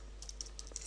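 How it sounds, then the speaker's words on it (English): Quick, light keystrokes on a computer keyboard, a handful of soft clicks in an irregular burst, faint and close against a quiet hum. "you just click on this and start typing away."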